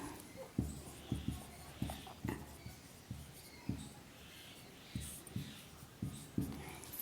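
Handwriting with a pen on paper while taking notes in a Hindi-language science lesson: soft, quiet scratchy strokes in short irregular bursts, close and faint, with no speech over them.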